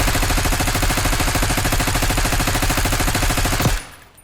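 A continuous, loud automatic weapon blast rattles out in a Black Ops 6 firing range, a rapid uninterrupted stream of shots lasting several seconds before cutting off abruptly into a short fading tail.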